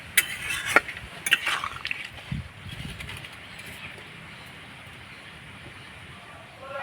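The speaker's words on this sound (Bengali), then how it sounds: "এবার যে লেবুগুলো আমি মেখে রেখেছি সেগুলো দিয়ে দেব একটু নাড়াচাড়া করে ফুটিয়ে নিতে হবে" A utensil clinks and scrapes against a pan as lemon pickle with chopped chili is stirred, with a few sharp knocks early on and then a low simmering hiss that settles into a quieter, steady bubble.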